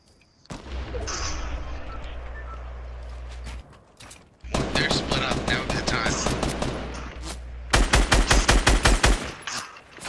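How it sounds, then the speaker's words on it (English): Video game gunfire crackles in long automatic bursts, with a pause near the middle and then a loud stretch of rapid, distinct shots toward the end, set against a deep rumbling background. "they're shooting at me"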